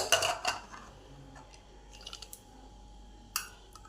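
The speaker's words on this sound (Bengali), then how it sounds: "এবার ঢাকাটা খুলে দেখি কি অবস্থা" A metal pressure cooker lid is opened after the steam has released, giving a few soft clanks and clinks of metal on metal, faint and close, with quiet pauses in between.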